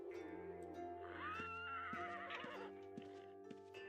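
Horses neigh and whinny in the video game Ultima Online, a rising whinny over steady game ambience with clip-clop hoofbeats ticking at regular intervals.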